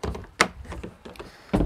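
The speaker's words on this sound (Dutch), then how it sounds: "Nou, de toegangsdeur is een deelbare deur." The split entrance door of a 2023 Caravelair Alba Style 472 caravan is worked open and shut, giving a few close latch clicks and sharp thunks spaced irregularly, with no talk.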